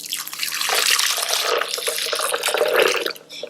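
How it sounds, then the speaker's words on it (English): Warm milk is poured into a sweet potato latte, a continuous splashing liquid stream that runs loud and close, easing briefly near the end. "And then I'm going to pour in the warm milk."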